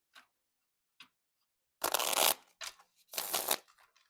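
A small pocket-size tarot deck being shuffled, with two faint card taps followed by two bursts of crisp riffling, close and alone.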